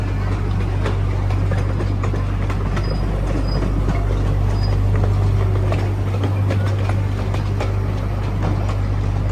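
A small miniature park train ride in Eltham, Melbourne, rumbling along steadily with a constant low engine drone and faint rail clatter throughout, no talk.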